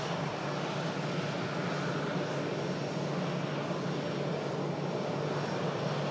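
An easyJet airliner arriving from Lisbon gives a steady, loud broadband jet roar that holds evenly throughout, with no voices.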